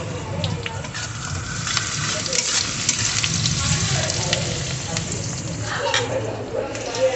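Onions fry in a pan with a steady, close sizzle and occasional stirring scrapes, while a voice talks over the cooking.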